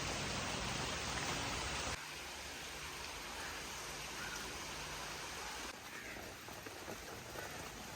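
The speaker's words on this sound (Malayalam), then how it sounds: "അതിന് മഴ തുടങ്ങി" Steady rain falls all around outdoors on a site with stones laid on a mud structure, a dense hiss of drops on surfaces, heavier at first and then a little softer.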